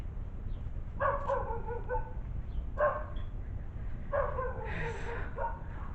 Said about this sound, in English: The damn dog won't be quiet.